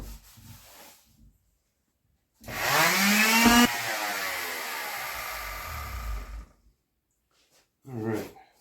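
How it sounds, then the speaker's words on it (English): Power sander working on wood during a Mini-Max 1030R machine build, a close, loud abrasive whir that spins up, runs steadily for about four seconds and stops, with someone talking briefly before and after. "Let me sand this side down"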